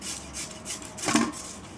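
Potatoes and onions being grated by hand for aloo pakora, giving a few soft scraping strokes with one louder rasping pass near the middle, close and with no speech.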